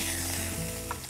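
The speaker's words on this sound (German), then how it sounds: "Dann wird das Ganze auf beiden Seiten schön anbraten." Beef fillet sears in a hot pan with a loud, continuous sizzle and crackle, close up and unbroken throughout.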